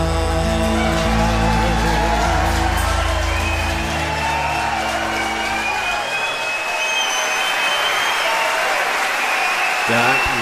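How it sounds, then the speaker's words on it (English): Live crowd during a song: the band's music fades out into loud, sustained applause and cheering from a large audience. "To see the crowd applaud before he was even done was really moving"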